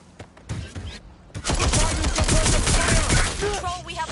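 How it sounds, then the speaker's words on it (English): Gunfire in the video game Watch Dogs Legion, a few scattered shots followed by a sustained, dense fusillade of rapid overlapping shots that stays loud and close. "Taking fire!"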